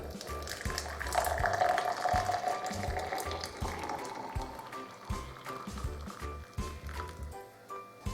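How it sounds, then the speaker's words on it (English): Boiled water poured into a mug for a mint, apple, lemon and ginger tea, a steady bubbling pour that swells in the first few seconds and then trails off with small trickles and clinks. "Pour it into your mug."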